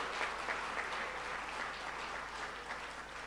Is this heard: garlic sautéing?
no